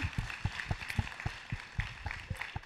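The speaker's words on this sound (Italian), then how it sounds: "Quindi un applauso a Michela Murgia, Don Paolo Giulietti" Light, sparse clapping rises at a youth meeting for speakers Michela Murgia and Don Paolo Giulietti, with steady individual claps over a faint room murmur and no clear voices.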